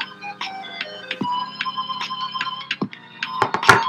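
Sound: music in the Capuchin video game gravity zone

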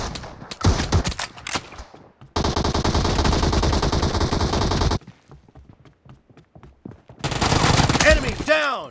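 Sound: gunfire in PUBG video game

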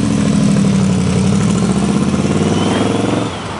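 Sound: Studebaker engine with Paxton supercharger whine

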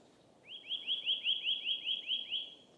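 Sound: birds singing in a spring forest

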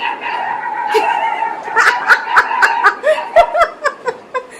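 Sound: dogs barking at a stray dog outside

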